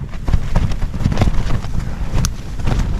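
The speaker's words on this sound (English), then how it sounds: "Wind's really getting up." Strong wind at a mountain campsite beside a tent buffets the microphone with a heavy, uneven low rumble and gusty thumps that stay loud throughout, with no speech.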